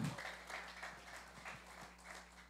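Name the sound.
sparse applause from church congregation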